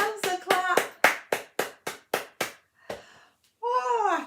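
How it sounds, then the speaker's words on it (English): Children at a storytime session clap hands after a nursery rhyme: a quick run of about ten sharp, separate claps, then a pause before a voice calls out. "Oh, give yourselves a clap."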